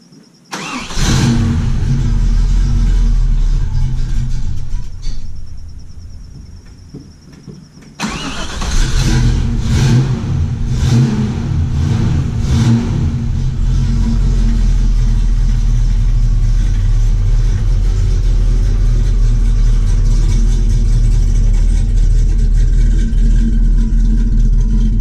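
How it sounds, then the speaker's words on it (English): A 1969 Chevrolet El Camino SS396 V8 cold start: starter crank, a brief stumble, then the big-block catches and settles into a loud, steady, rumbling idle with a couple of blips of the throttle, heard close and alone. "a cold start of a 1969 SS396 El Camino"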